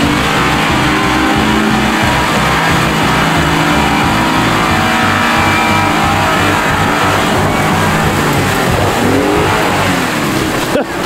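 An overland truck pushes through an off-road obstacle where other vehicles got stuck, its engine loud and close, revving and straining continuously with rumbling variations throughout.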